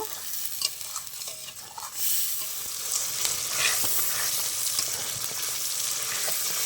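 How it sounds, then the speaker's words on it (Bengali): Ground spice paste sizzles and fries in a pan while being stirred for a Bengali vegetarian matar dal bora recipe, a steady close hiss with soft scraping strokes and no talking. "এবার আমি ভালো করে মশলাটা কষিয়ে নেব।"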